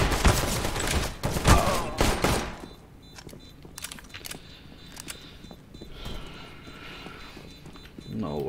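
Rapid bursts of automatic gunfire in Counter-Strike: Global Offensive on the Canals map, loud and close at first, then sparser scattered shots, with someone talking over them.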